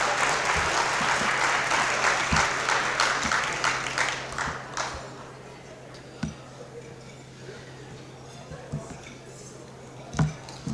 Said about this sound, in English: if we could have a round of applause for everyone